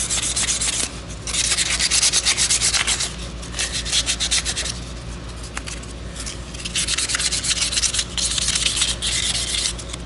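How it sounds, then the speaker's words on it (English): Sandpaper rubbed by hand over the rusty metal plate of a Yamaha G1 piano, making close, steady rasping strokes in bursts with brief pauses. "take some sandpaper, gets off all that rust"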